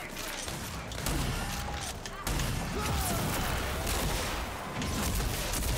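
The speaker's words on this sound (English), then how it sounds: "Explosions everywhere going on." Rapid gunfire and explosions rumble in the RAGE 2 video game, a dense, loud, continuous barrage of shots and booms with no clear pauses.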